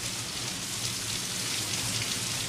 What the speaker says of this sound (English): She made it rain inside the store.